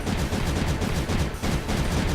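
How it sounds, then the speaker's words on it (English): Cannons fire in the video game Creeper World 3, a dense, continuous rumble of overlapping booming shots that keeps up for the whole couple of seconds, fairly loud and with no speech. "And then this little wall of cannons here will be able to push the enemy back."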